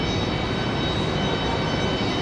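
At Raleigh-Durham airport, a JetBlue airliner moves with a steady, loud, broadband jet roar that holds constant and close.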